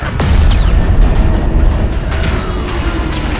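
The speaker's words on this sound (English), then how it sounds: "That explosion came from the propulsion deck." Heavy rumbling boom from an explosion on a ship's propulsion deck in the video game Destiny, a deep, loud, sustained roar with sweeping tones and debris-like rattles, no voices.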